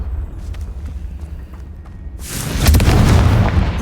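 A fire-spell explosion in the Hogwarts Legacy video game, rising from a low rumble into a loud, sustained blast with crackling debris lasting over a second.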